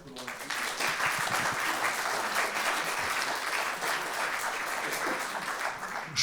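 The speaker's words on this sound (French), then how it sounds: "on peut applaudir Tonton" Sustained audience applause in a hall for Tonton at a tribute gathering, dense steady clapping building quickly and holding for several seconds, close and full.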